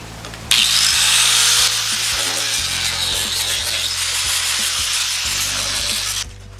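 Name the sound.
4.5-inch angle grinder cutting plastic off a transmission filter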